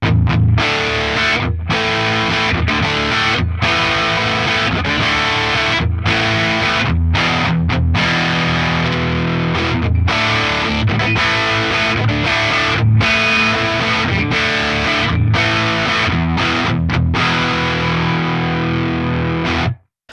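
Heavily distorted electric guitar, a Fender American Professional Deluxe Telecaster on the neck pickup, playing continuously, thick and saturated with a warm, rounded tone, loud and steady until it cuts off at the end.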